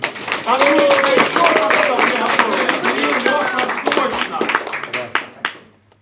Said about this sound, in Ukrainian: Потужні хлопці, аплодуємо їм.